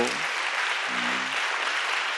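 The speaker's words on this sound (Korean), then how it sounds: "우리 감사한 마음으로 큰 박수" An audience at a Christian school's media education lecture claps loudly and steadily throughout, with brief voices heard under the applause.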